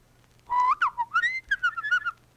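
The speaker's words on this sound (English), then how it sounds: "He loved to listen to the birds whistling in the trees." Bird-like whistling rings out alone in a quick series of clear, bright phrases, rising and falling with short trills over about two seconds.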